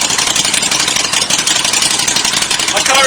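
Motorcycle fitted with a Yoshimura Alpha-T exhaust idles at tick over, a loud, close, steady pulsing engine note with a fast, even rhythm and no talk over it.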